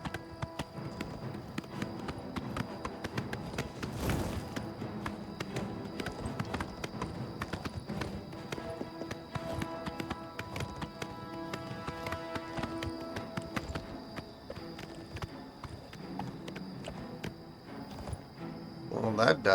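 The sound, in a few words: horse hooves walking in a video game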